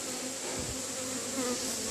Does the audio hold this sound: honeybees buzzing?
yes